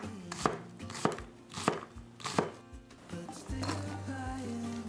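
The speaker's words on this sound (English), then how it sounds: "Chop onion into small pieces." A knife chops onion into small pieces on a cutting board for a Japanese vegan curry, with sharp evenly spaced strikes about every half second, close and clear, followed by quicker, softer cuts and a steady low hum.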